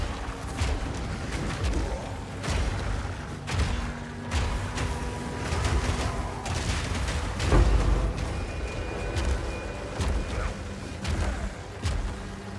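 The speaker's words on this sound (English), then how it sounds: "I love my giant explosions." Repeated booming explosions and impact effects in the action game Path of Exile, dense and layered with irregular heavy thumps and crackles, one stronger blast near the middle.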